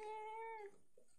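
A kitten gives a single clear, high meow lasting well under a second, close and distinct, followed by a faint, soft squeak in a quiet room.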